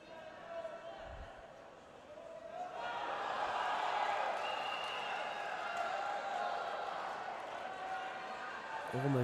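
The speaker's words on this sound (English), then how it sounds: "Crowd enjoying this." A judo arena crowd at a Grand Slam event in Baku swells into sustained cheering and applause, building after a quiet start and holding loud and steady to the end.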